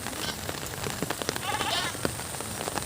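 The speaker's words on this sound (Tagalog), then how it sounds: "Ngayon guys, umuulan" Steady rain falls over a rice field damaged by wind and constant rain, a dense hiss with scattered drops close by and a brief animal bleat in the middle, with no talk.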